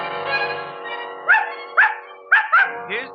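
A dog barks in a radio drama, a series of sharp yips and barks coming in quick pairs, loud and close, after a voice and a brief low sound at the start.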